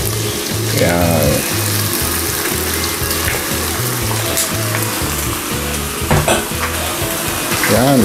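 Squid stir-fries with garlic in a pan, sizzling loudly and continuously while a utensil clatters and scrapes against the metal, with a few sharper knocks.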